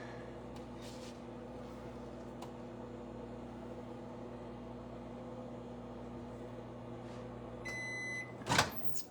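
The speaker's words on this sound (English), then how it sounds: "Let's pull this out of the microwave." Steady low hum of a microwave heating enchiladas in a vented steamer, then a few beeps and a sharp clunk as the door opens.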